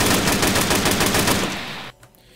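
A Russian KM machine gun fires in the video game Arma III, a rapid, loud automatic burst of close shots lasting almost two seconds before cutting off abruptly.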